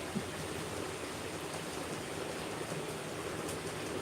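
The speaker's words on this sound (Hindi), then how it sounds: "बारिश हो रहा है।" Steady rain falling outdoors, a continuous soft hiss of drops with no distinct individual impacts, fairly faint and even throughout, with no talking.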